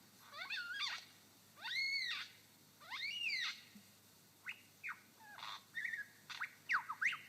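A lyrebird in a Victorian forest mimics the call of a yellow-tailed black cockatoo, giving a series of faint, rising and falling wailing whistles with short pauses, turning quicker and choppier toward the end.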